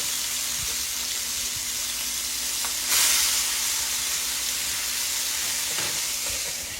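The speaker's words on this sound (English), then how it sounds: "We're going to fry it on that side" Food fries steadily in a pan on a home stove, a continuous close sizzle with a brief louder burst of spitting near the middle, no voices over it.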